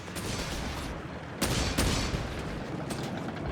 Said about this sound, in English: Punches are going up with machine gun grenades being chucked.